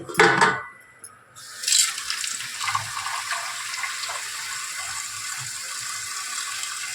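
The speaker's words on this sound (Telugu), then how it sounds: "ఫస్ట్ ఇంకా వాటర్ పట్టుకోండి." Tap water runs steadily into a container for washing thin ration rice, starting with a brief louder gush and then settling into an even, close-up pour and splash with no talk.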